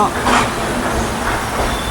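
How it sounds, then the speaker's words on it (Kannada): A train rumbles and hisses as it moves off, with a steady low rolling noise and faint squeals, voices murmuring nearby. "ಸೊ ನೋಡಿ ಟ್ರೈನ್ ಹೊರಟಿದೆ"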